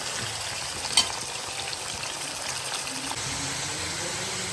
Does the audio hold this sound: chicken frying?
yes